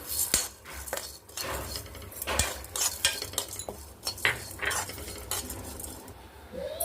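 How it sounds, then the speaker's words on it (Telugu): A spoon scrapes and clinks against a pan as toor dal and chana dal dry roast over low heat for idli podi, with a faint sizzle under the irregular stirring strokes close by and no voices. "కందిపప్పు, శనగపప్పు వేయించుకుంటున్నాం కదండి"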